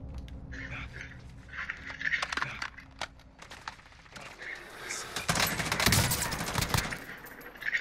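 Call of Duty gunfire, with rapid automatic bursts and scattered shots crackling at varying distances, louder toward the end, while players talk over the shooting.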